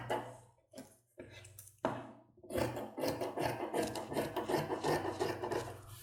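Scissors cut through folded fabric for sewing women's shorts, a few soft snips at first, then a steady run of close, quiet rasping cuts.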